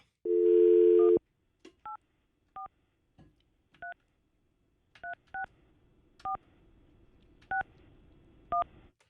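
Telephone dialing for a radio call: a long tone, then a sequence of about nine short touch-tone beeps spaced irregularly over quiet line hiss, with no voices.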